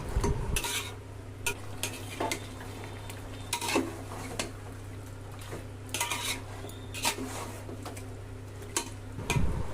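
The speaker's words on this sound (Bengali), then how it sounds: "এই সময় গ্যাসটা হাই ফ্লেমে করে মাংসটা ভালো করে মশলাতে কষিয়ে নেব" Marinated chicken for Hyderabadi dum biryani frying in spice masala over a high gas flame, with repeated metal spatula scrapes and clanks against the pot over a continuous low hum and crackling sizzle.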